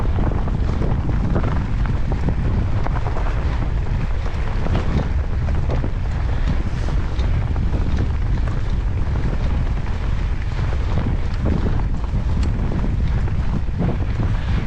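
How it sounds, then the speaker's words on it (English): A strong headwind buffets the microphone of a mountain biker on a NICA pre-ride trail, producing loud, constant low-frequency roaring and gusty rumble throughout, with no talking. "with the weather, we have a pretty gnarly headwind"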